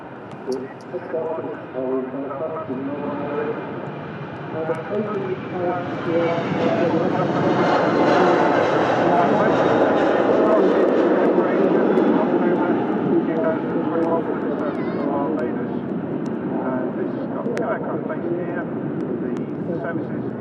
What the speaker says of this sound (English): Out goes that A330.